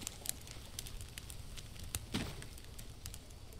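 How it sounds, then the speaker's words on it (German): A campfire burns in the jungle survival game Green Hell, a steady close crackle with scattered sharp pops and snaps under a faint hiss of rain. "Das heißt, wir machen erstmal Feuer."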